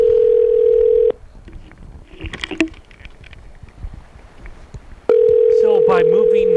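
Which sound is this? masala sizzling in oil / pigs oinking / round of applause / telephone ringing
telephone ringing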